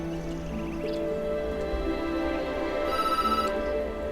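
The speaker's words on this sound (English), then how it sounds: "She got a phone call." An in-game telephone rings in Lumberjack's Dynasty, a repeating electronic trill that comes in clearly near the end over steady background ambience and music.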